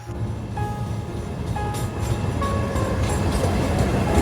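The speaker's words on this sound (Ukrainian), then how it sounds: "Перша електричка, яка вирушає зі ставного до Ужгорода" An electric commuter train departs Stavne for Uzhhorod in the Transcarpathian mountains before dawn, a steady rolling rumble that swells slightly with faint tonal whines and squeals. It is heard alone, with no talk.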